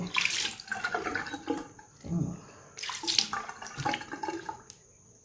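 Plain water splashed and rinsed over a face at a sink, a continuous close wash of running and splashing water with a brief lull partway through, no voices.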